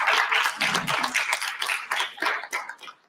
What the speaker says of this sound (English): So a small round of applause for Aditya.